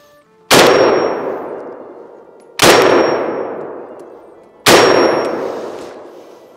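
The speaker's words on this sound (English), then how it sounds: "I'm gonna shoot the Zastava" Three loud, evenly spaced rifle shots from a Zastava M76 8mm designated marksman rifle on an outdoor range, each a sharp crack followed by a long ringing decay of struck steel, about two seconds apart.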